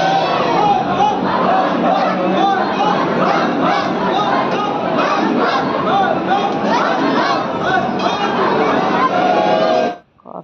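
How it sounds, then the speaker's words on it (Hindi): Dense crowd of kanwariya pilgrims at a Mahadev temple, a loud continuous roar of overlapping voices and shouts filling the space, steady throughout before cutting off abruptly near the end. "भीड़ है"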